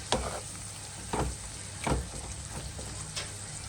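Onions fry for prawn biryani, a steady close sizzle broken by several soft scraping stirs of the pan, about four in under four seconds.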